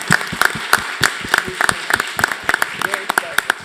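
Applause at a school board meeting: a modest, steady clapping from a small group, with crisp regular claps close by and a faint room murmur underneath.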